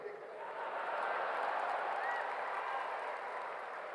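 A crowd at a public speech claps together, a dense, even wash of hands that rises quickly and holds at a moderate, somewhat distant level for several seconds before easing slightly.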